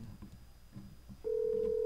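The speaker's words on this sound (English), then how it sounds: "Yeah, it's ringing." Telephone ringing on an outgoing call: a steady electronic tone starts after a quiet line hiss and holds to the end, clear and close.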